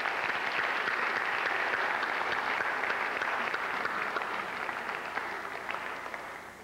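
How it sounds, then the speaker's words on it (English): A large graduation audience at the Zama American High School class of 2004 ceremony applauds for teachers and parents, a steady, full wash of clapping that holds throughout and eases slightly toward the end. "would you please join me in a round of applause for your teachers and your parents"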